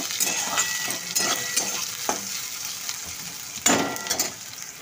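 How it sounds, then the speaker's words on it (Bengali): Onions frying in a pan for a home-cooked rainy-night meal, giving a steady close sizzle with scraping stirs that rise and fall in bursts. "পেঁয়াজটা লাল করে ভাজা হয়ে গেছে"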